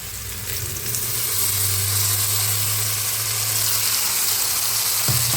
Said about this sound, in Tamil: வச்ச இஞ்சி பூண்டு விழுது ஆட் பண்ணிக்கலாம்